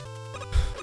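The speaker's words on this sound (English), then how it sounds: "That's the sound of more bolts getting collected" Bolt pickup sound from the video game Mega Man 9, a short burst of chiptune tones lasting under a second, with a brief low thump near the end.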